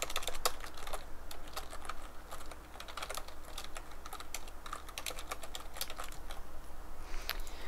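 Code being typed on a computer keyboard during a Unity 3D game programming session: rapid, irregular key clicks close to the microphone, with occasional bursts and short pauses and no talking.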